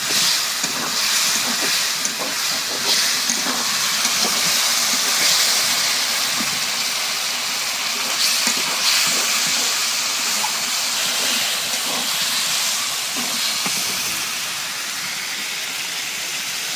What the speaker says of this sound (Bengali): একটু পানি দিয়ে দিই, আলুটা মশলার সাথে ভালো মতো কষানো হয়।